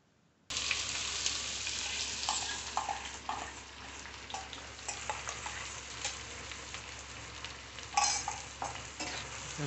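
Onions fry in a pan for dry Maggi noodles. A close, steady sizzle starts abruptly and is dotted with crackles and the scrape of stirring.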